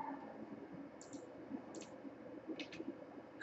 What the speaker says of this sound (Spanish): Le dan clic ahí.